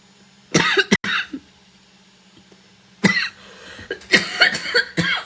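A person coughs several times in close, harsh fits: a short burst, a pause, then a longer run of hacking coughs.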